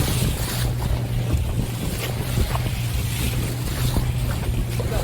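Fishing boat trolling slowly on the sea off Bali, Indonesia: a constant low engine hum under heavy wind buffeting and sloshing water, steady and close throughout.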